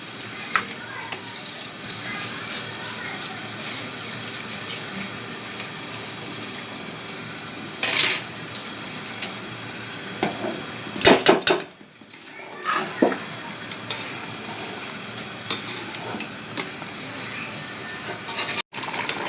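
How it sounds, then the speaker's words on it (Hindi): Rice is tipped into a pot of spices frying for aloo matar pulao and stirred, giving a steady sizzle with intermittent metallic scraping and clanks of a utensil against the pot. "अब ये मैं चावल ऐड करने लगी हूँ इसके अंदर।"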